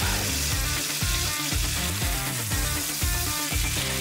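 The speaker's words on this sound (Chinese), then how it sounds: "开火直接再下一小块奶油，并用大火煎牛排" Steak searing over high heat in a pan with a small knob of butter, giving a steady, loud, dense sizzle with a rhythmic pulsing pattern throughout, no voices.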